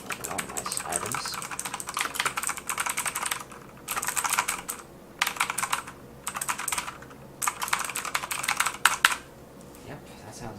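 Fast typing on a TOMOKO RGB backlit mechanical gaming keyboard with blue switches, crisp clicky keystrokes in bursts separated by short pauses, close and clear.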